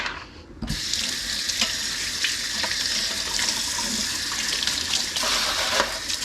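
Kitchen tap turned on, running water splashing steadily over a utensil being rinsed in the sink, close and continuous after a brief quiet start.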